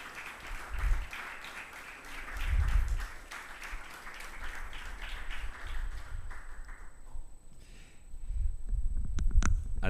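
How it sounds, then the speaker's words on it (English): Audience applause at a university prize ceremony for investigative journalism, a moderate, steady clapping that swells and fades over several seconds, with low thumps and a brief lull before clapping picks up again at the end. "big round of applause."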